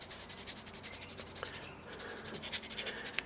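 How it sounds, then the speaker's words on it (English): Sanding a gun sear from a Smith & Wesson SW40VE or SW9VE with 600 grit sandpaper, a soft, quiet rhythmic rasping of quick back-and-forth strokes with no voice. "I'm going to start with my 600 grit paper"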